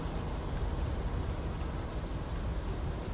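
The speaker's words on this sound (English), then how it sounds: "It's fucking raining here." Steady rainfall in the video game Fallout 4, a dense, even hiss of drops pattering continuously at moderate level with no voices over it.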